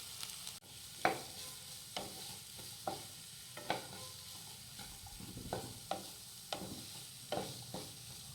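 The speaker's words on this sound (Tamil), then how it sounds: "கூடவே ஒரு குடமிளகா பொடி பொடியாக நறுக்கி அதில் சேர்த்து கொஞ்சமாக உப்பு போட்டு நல்லா வதக்கிக்கலாம்." Chopped onion, green chili and capsicum sautéing in oil while a spoon stirs them, giving a steady soft sizzle broken by repeated scraping taps about once a second, close and fairly quiet with no talking.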